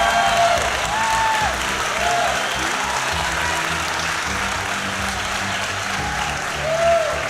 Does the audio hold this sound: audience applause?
yes